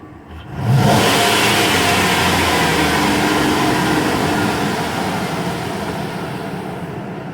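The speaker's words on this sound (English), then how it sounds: "So now we're going to do wide open throttle." A car engine is revved at wide open throttle, surging in after a brief quiet start to a loud, sustained, roaring drone that holds steady and then eases slightly, close and alone.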